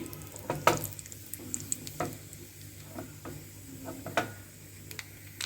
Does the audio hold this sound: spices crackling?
yes